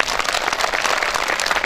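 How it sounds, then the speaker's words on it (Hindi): An audience at a staged program applauds its guests, a dense, steady wash of clapping that fills the whole short stretch at even loudness with no voices over it. "हमारे मेहमानों के लिए एक दफ़ा आप ताली बजा दें।"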